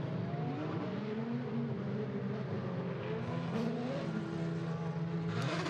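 Formula 3 race cars at the Macau Grand Prix run through a bend, engines whining and droning steadily at a distance, with layered high-pitched engine tones and no talk.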